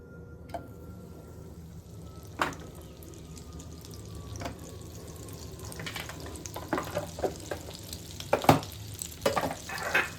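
Butter melts with a little Saffola oil in a cooking pan for dal makhani, giving a soft, steady sizzle with occasional clinks and stirring knocks that grow busier toward the end.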